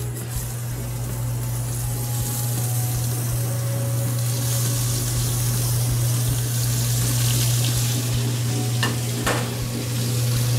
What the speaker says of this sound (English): Now, while our scallops are searing